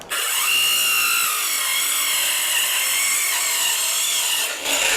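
Steady, loud whining buzz of a 5-inch Osuka OCS826 cordless circular saw cutting through wood, running continuously with a brief dip near the end.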